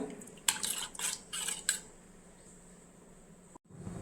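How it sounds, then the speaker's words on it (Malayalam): Four quick scrapes of a utensil stirring rambutan pulissery curry with spice powders, salt and water in a pan, close and brisk, followed by a low steady hum. "ഇതൊന്ന് ഇളക്കി കൊടുക്കുക"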